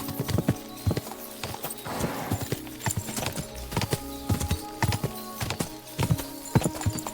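Horse hooves clip-clop in a steady, driving gallop rhythm in the video game Kingdom Come: Deliverance 2, close and moderately loud, with a brief rushing noise partway through and no talking.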